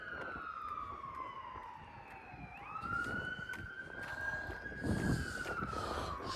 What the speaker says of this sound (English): Oh, now an ambulance.